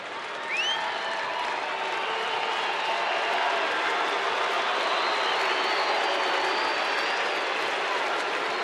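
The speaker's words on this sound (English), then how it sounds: "Crowd getting behind Darvish." A baseball stadium crowd cheers on pitcher Darvish in a sustained, loud wash of applause and voices that swells slightly as it carries on, with a faint whistle near the start.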